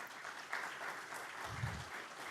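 Faint, steady audience applause welcomes a guest at a company's stock exchange bell-ringing event, with no talk over it.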